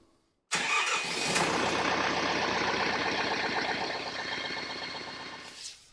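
An RK55 tractor engine cranks to life after a moment of silence, then settles into a loud, close, steady rhythmic idle that eases slightly in volume toward the end.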